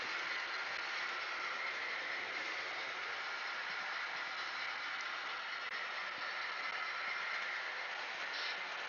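An HO scale model train runs along a layout's track, giving a steady, even rolling hiss and hum that holds without pause at moderate level, close by and with no voices.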